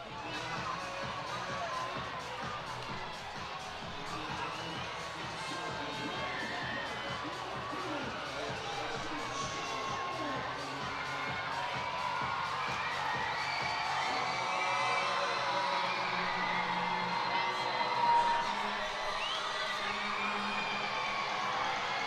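Arena crowd at a hockey game, a continuous roar of cheering and whooping that builds slightly and rumbles on, with a commentator talking over it.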